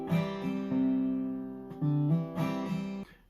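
Acoustic guitar playing a strumming pattern with hammer-ons, several strummed chords in a relaxed rhythm, each chord ringing before the next, played alone without talk.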